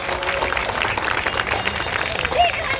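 An audience applauds at a birthday felicitation ceremony, dense clapping filling the room in a continuous wash.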